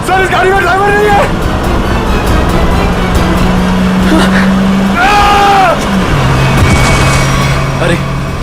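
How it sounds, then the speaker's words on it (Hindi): A taxi in a crime drama skids with shrill tire squeals in two bursts over a loud, steady engine roar, with voices shouting underneath. "अरे ये पंकज टैक्सी से घुस गया।"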